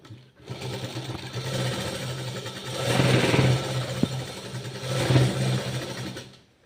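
Electric sewing machine stitching a half-inch side seam on a blouse sleeve, whirring close up in two longer bursts that speed up and slow down, with brief pauses and no talk.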